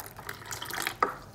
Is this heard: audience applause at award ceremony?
no